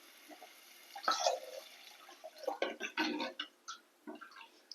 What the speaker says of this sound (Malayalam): ആവശ്യത്തിനുള്ള വെള്ളം ഒഴിക്കാം.